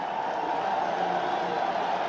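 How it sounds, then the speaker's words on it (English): Broad, steady roar of a stadium crowd at a 1989 NFL game between the Dallas Cowboys and New York Giants, cheering a Giants defensive play, distant and continuous with no clear peaks. "Crowd responding to the Giant defensive effort."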